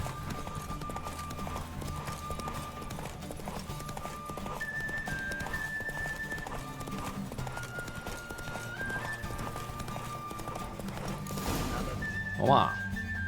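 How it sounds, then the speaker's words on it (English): A horse gallops in The Witcher 3 video game as a race runs, a steady rhythmic clip-clop under constant game ambience, with someone talking excitedly over it and a brief louder neigh near the end. "míralo, ahí viene, ahí viene. Ish, viene embaladísimo"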